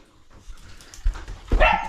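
A dog barks during a Kukur Tihar festival celebration in a Nepali village, giving a few short, close barks that get louder toward the end, with faint background sounds in between.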